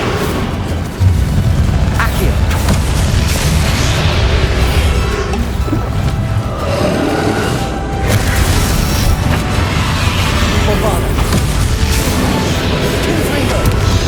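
An Incendio fire spell goes off in the game Hogwarts Legacy, a loud booming burst over a dense bed of battle effects and music, with a crash or two and no clear speech.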